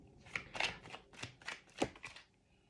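Emotion cards shuffled and drawn during a card reading, a series of about eight short, sharp riffling and slapping bursts, close and clear against a quiet background.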